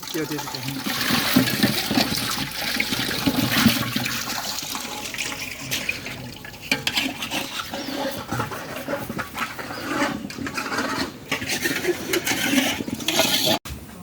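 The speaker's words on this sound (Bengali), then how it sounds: "খাওয়া দাওয়া শেষে যত বাসন কুসন আছে জিনিসপত্র সব ধুয়ে ফেলতেছে এখন" Dishes and utensils are washed with running and splashing water after a feast outdoors, a steady rushing flow with clatters, while people talk in the background.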